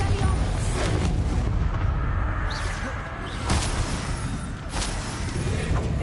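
Spell explosions from Bombardo, the blasting charm in Hogwarts Legacy, boom in heavy broadband bursts over a dense, continuous rumble of combat, with several sharper blasts standing out across the stretch.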